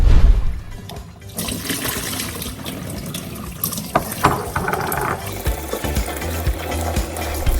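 Loud running water pouring and splashing close by, with small rattling and clinking as almonds are rinsed under the stream.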